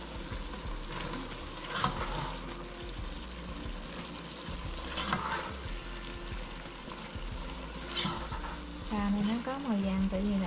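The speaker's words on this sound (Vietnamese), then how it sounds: "Để mình trộn đều lên." Eggplant stir-fried with pork and tofu in a pan sizzles continuously while a utensil stirs and scrapes through it, with a voice talking briefly near the end.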